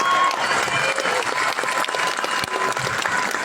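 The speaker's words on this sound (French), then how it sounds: "je vous demande bien sûr de leur faire un tonnerre d'applaudissements" Crowd applause at an anti-racism rally in Saint-Denis, a dense, loud, sustained clapping from many people that continues steadily throughout.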